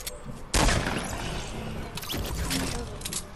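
Sniper rifle shots in Fortnite Battle Royale squad play: two sharp, loud cracks about a second and a half apart, each followed by a sustained noisy roar of game sound.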